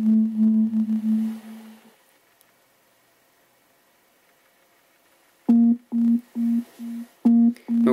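Power-on tone from an Enusic Life Bluetooth speaker: a sustained electronic beep, then a quiet gap, then a rhythmic series of six or seven short, loud identical beeps, clear and close with no talking.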